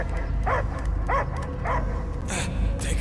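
A dog barks in the Guardians of the Galaxy video game, several short yips and barks spaced about half a second apart over a steady low background hum.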